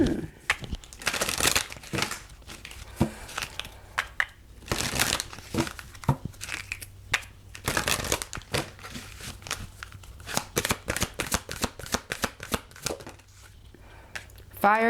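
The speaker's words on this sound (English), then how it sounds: "look how these cards are shuffling" Tarot cards shuffled by hand, a dense run of crisp riffling and crinkling bursts with short pauses between, close and fairly quiet, with a little talk mixed in.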